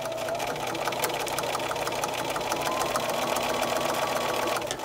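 A sewing machine stitches a string-pieced fabric bowl cozy with a fast, even rattle of stitches, loud and close, running without a break and without talk.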